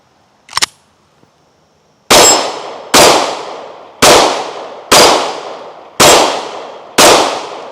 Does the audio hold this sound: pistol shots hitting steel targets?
yes